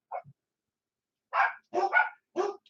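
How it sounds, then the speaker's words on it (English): Dogs barking in the background during a ham radio net: a faint early yip, then a quick run of three or four louder barks, close and clear against silence. "Oh, I got some dogs barking in the background here."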